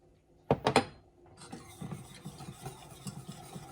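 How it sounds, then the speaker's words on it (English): A spoon stirs mustard BBQ sauce with molasses in a bowl, opening with a few sharp knocks and then soft, rhythmic scraping and swishing strokes, close and quiet. "Stir that up a little bit."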